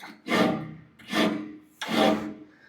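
A hand file smooths the folded metal edge of a door, giving three slow, close rasping strokes, each one swelling and then fading.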